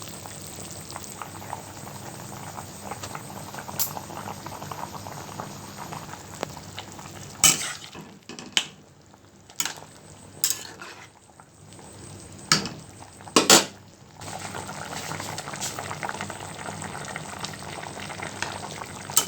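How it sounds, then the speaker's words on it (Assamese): Homestyle mutton curry with potatoes bubbles and sizzles in a pot, a steady close simmering hiss broken by a few sharp knocks and stirring clatters midway before the bubbling resumes. "মাংসখিনি উতলিব ধৰিছে আৰু 10 মিনিটমান পিছত মোৰ মাংস ৰেডি হ'ব।"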